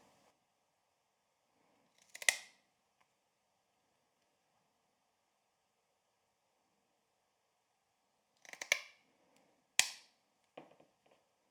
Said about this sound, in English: And then you can now punch your holes. I'm using a rotary hole punch for this.